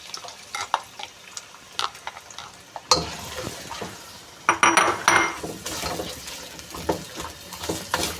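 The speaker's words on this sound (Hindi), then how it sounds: "घी गरम हो चुका है, अब इसमें प्याज डाल देंगे।" Onions tipped into hot ghee and stirred in a pot for beef aukhni pulao: quiet clinks at first, then a sudden sizzle swells and carries on steadily with scraping stir strokes close by, no talk.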